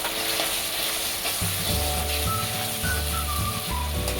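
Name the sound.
ginger garlic paste and spices sautéing in a pan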